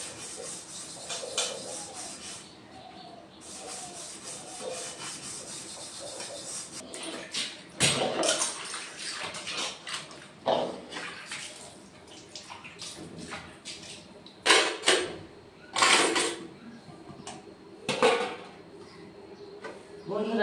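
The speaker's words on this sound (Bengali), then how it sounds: "তো চলো থালাবাটিগুলো মেজে নিই।" Dishes being scrubbed and washed by hand at home: irregular rubbing and scouring strokes with splashes of water and occasional sharp clinks, close by, with no talk.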